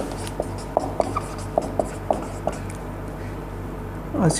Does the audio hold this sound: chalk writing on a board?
yes